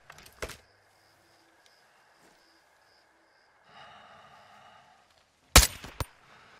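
Two sharp, loud sniper rifle cracks ring out in Call of Duty Modern Warfare 2, one early and a heavier pair near the end, with quiet ambient movement and a brief stretch of rustling in between.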